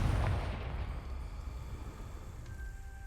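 Confringo blasting spell fired from a wand in a Harry Potter-style video game, a deep booming explosion that rolls out into a low rumbling tail and fades over a few seconds, with no voices.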